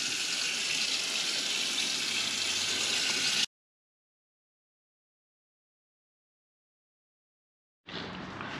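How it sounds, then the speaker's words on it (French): Water running hard from the plumbing of a MAN camper van as its roughly 20-litre water system and hoses are drained, a loud steady gushing that cuts off suddenly, falls silent, then resumes. "Donc je purge le système d'eau."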